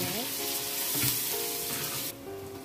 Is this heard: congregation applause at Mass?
no